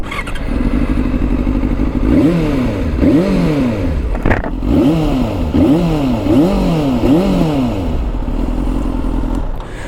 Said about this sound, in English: Such a sweet sounding motorcycle.